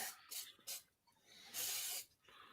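Several short hissing bursts of Zip Kicker glue accelerator being sprayed from a nearby can, with one longer, louder spray in the middle and another starting at the end.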